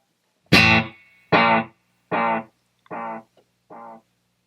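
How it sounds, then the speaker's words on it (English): Electric guitar played through a delay pedal switched between modes, five separate strummed chords each ringing out and cut off, the tails shrinking in length and loudness from one to the next, with no voices. "it's changing the length of the echo, sounds like"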